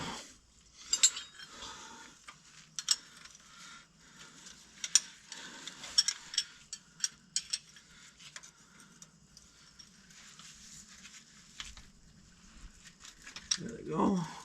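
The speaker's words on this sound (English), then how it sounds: "So then we take these bolts off" A ratcheting wrench works loose 5/8 inch bolts on a John Deere 7520 tractor, giving irregular metallic clicks and clanks spread across the stretch with quiet gaps, and a voice speaks briefly near the end.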